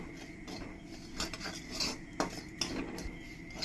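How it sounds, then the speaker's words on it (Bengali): A spoon scrapes and clinks against a pan as semolina roasts in ghee, steady stirring with repeated light metallic knocks and a soft background hiss, no voices. "সুজিটাকে দিয়ে ভালো করে আমি একটু ভেজে নেব ঘি দিয়ে"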